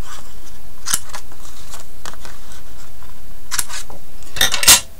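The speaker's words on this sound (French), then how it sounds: "Les rubans sont droit. Et on coupe l'excédent." Scissors snip excess ribbon on a 3D paper card, making a few sharp, close cuts spaced over several seconds against a steady background hiss.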